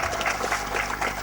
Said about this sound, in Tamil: அதுக்கும் நல்ல கரகோஷம் கொடுங்க.